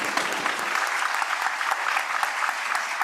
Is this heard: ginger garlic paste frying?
no